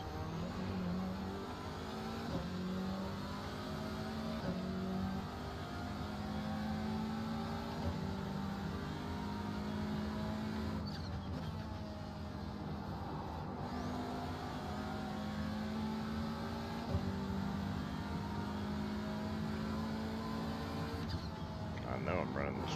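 Radical SR10 race car engine lapping Thruxton Circuit, a steady droning note rising and falling through gear changes, heard close from onboard under ongoing talk.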